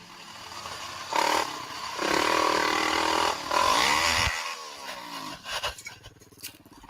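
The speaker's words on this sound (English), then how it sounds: "uploaded a GoPro video of himself riding his ATV on an unnamed trail" An ATV engine droning and surging in bursts while riding a trail, with clattering and scraping from the ride, loud and close, then dropping away near the end.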